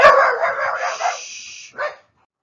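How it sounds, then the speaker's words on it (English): Dog yowling and barking close by, a loud drawn-out howling cry that fades, then one short bark before silence. "my dog was yowling"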